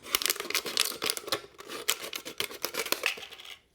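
Scissors snip through the bottom of a plastic water bottle for a craft project, giving a close, quiet series of sharp crackling cuts and plastic crinkles in quick irregular bursts, then a brief pause near the end.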